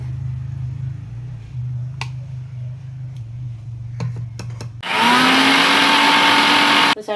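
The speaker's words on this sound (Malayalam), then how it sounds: "പുതിന ഇല ഒന്ന് അരച്ചിട്ട് ഒരു സ്പൂൺ തൈര്" An electric mixer grinder blends mint leaves with curd. It starts with a low hum and a few clicks, then surges into a loud, high whirring roar for about two seconds before cutting off.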